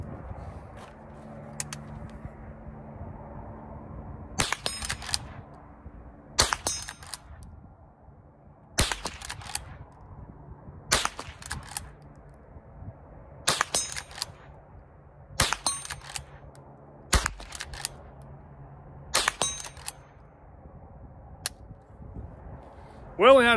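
A Henry .22 lever action rifle fires about ten sharp, loud single shots at a 50-yard range, spaced a couple of seconds apart, with faint background noise between them.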